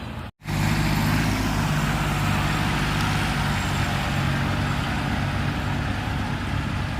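Modified Kubota walk-behind tractor engine running steadily in a rice field, a loud continuous low diesel drone after a brief dropout at the start, with no talk.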